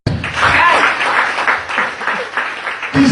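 Church congregation applauding at a pastor's call during a sermon: a dense, loud burst of clapping that continues steadily for about three seconds, with no talking over it.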